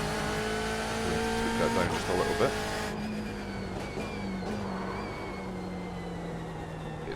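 A GTE race car lapping in the iRacing sim, its engine droning steadily with gear changes and a shift around the midpoint, running under continuous talk from a nearby voice.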